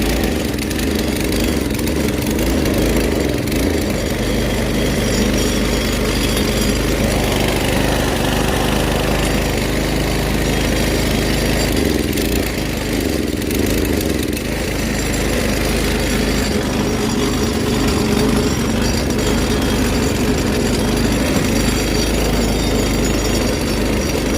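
A small Coleman go-kart engine runs close by, a loud rough mid-pitched rattle that holds steady with slight surges, with no talking over it.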